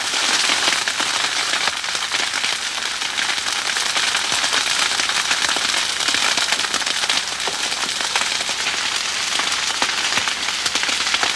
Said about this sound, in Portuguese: O fogo no canavial simboliza a época da safra da cana.